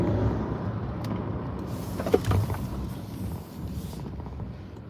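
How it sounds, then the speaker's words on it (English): Busy road traffic passes in a steady low rumble, with one vehicle briefly swelling louder midway before the noise eases off. "this traffic is crazy"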